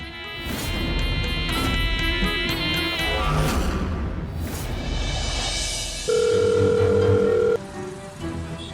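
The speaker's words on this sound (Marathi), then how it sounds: "फोन उचल इरा." Telephone ringing in an indoor drama scene: a steady electronic ring tone sounds for about a second and a half near the end, over background music.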